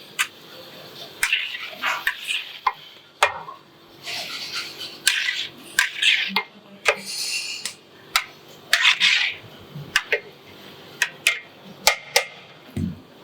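Goat-meat biryani is stirred in a large pot over a wood-fired stove at a Vaniyambadi hotel, with repeated rasping, scraping strokes that come in uneven bursts among soft background voices and kitchen clatter.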